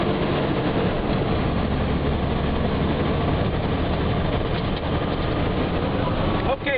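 A 1999 IHC 8100 day cab tractor's big engine pulls hard under acceleration, a loud, steady low diesel roar that fills the cab without letup, with a brief rising whine near the end.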